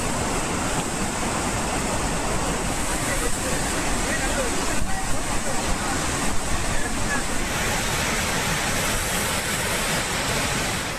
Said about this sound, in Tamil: 2 நாட்களாக பெய்யும் மழையால் வெள்ளி அருவியில் நீர் ஆர்ப்பரித்து கொட்டுகிறது